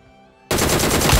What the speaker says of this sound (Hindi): पीछे से भी अपन को साउंड आने लगता है फायरिंग का